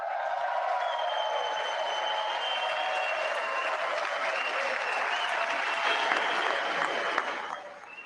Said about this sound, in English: And they're going to clap for another 5 minutes.